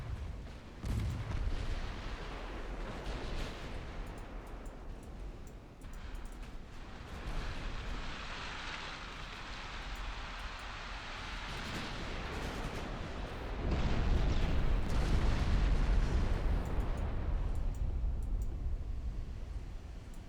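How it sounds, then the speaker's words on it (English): Naval combat in Ultimate Admiral Dreadnoughts: torpedo hits and ship gunfire roll as a continuous, rumbling barrage of distant booms and blasts, swelling louder and heavier toward the end with no voices. "Multiple torpedo hits. Multiple torpedoes here."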